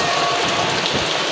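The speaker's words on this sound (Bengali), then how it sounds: "দেখেন কত পরিমাণে বৃষ্টি হইতেছে" Heavy rain pours steadily over a village outdoor kitchen with a plastic sheet stretched above the stove, a dense, loud, even hiss with no voices.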